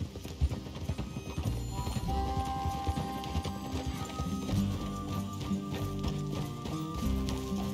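Horses clip-clopping in the video game Red Dead Redemption 2, a steady run of hoof beats up close under layered game music, with a brief whinny and no talking.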